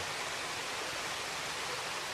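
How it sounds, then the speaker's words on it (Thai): A waterfall pours in a continuous broadband rush, steady and even throughout the short stretch, with no voices. "นี่ครับเสียงน้ำตกครับ"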